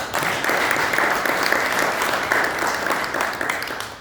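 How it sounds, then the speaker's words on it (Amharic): A church congregation claps hands in praise during an Amharic worship service, producing a dense, steady wash of applause that stays loud for the whole stretch. "እስኪ እጃችሁ ይሄ ከፍ አድርጉና ሲያወዛውሱና በዚህ በአማርኛ አጨብጭቡ ለጌታ"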